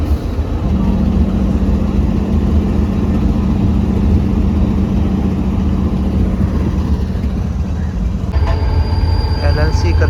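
Passenger train hauled by locomotive EG30 6026 on the Karachi–Lahore line, heard as a steady loud rumble of rolling stock with a sustained low hum, running continuously throughout at close range.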